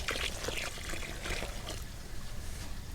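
Water poured from a container into a freshly dug planting hole in a garden soil bed, a steady splashing pour that tapers off after about two seconds.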